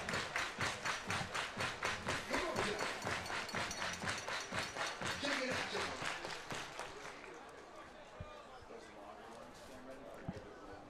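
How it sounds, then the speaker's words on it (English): A baseball crowd at a Portland Pickles versus Victoria HarbourCats game claps in unison, a fast rhythmic beat for about seven seconds that then fades into scattered claps and murmur under an announcer's voice. "Everybody, clap your hands."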